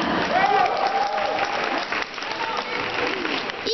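A crowd at a dance competition claps loudly and steadily for the whole stretch, with a voice rising over the applause.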